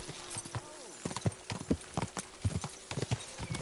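Horse hooves in the game Kingdom Come: Deliverance II clip-clop in a quick, steady rhythm of hard knocks, close and clear, with a brief tonal hum in the background.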